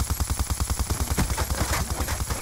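Rapid automatic gunfire from a Black Ops II shooter game on the Nuketown map, a fast even stream of punchy shots in one sustained burst, loud and close with no talk over it.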